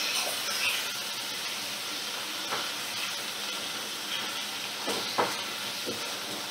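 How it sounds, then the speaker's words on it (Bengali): Fish with salt and turmeric sautéing in a pan over a medium flame, giving a steady soft sizzle and hiss with occasional scrapes and stirring clinks. "ফ্লেমটাকে মিডিয়ামে রেখে আমি এগুলো ভালো করে কষিয়ে নেব।"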